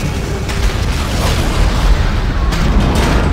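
Loud, sustained rumbling blast from an in-game explosion in Dead Space, with broadband booming bursts filling the whole stretch and a few sharper pops near the start and later on.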